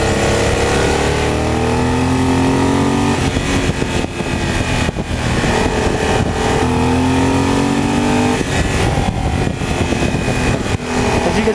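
A Triumph Thunderbird Commander motorcycle engine pulls hard while merging onto a highway, a loud, steady roar with rising pitch sweeps through the gears and wind noise throughout.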